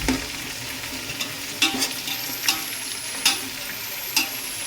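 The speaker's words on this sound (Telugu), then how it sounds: "కొంచెం ఉల్లిపాయలు బాగా వేగాలి, కొంచెం బ్రౌన్ వచ్చే వరకు వేపాలి" Onions fry in a pan as they brown, giving a steady close sizzle broken by a few sharp stirring scrapes at regular intervals, with no talking.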